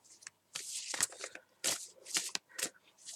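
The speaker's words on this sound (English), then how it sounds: "let's start by shuffling the cards now" Tarot cards are shuffled close up in several quick crisp bursts of riffling and sliding, separated by brief pauses, with no talking.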